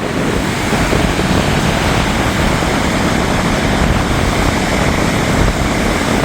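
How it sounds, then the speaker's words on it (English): Heavy ocean surf and strong wind during Hurricane Erin, a loud, continuous roar of crashing waves with wind buffeting the microphone and no one speaking. "These waves coming off here are not happy"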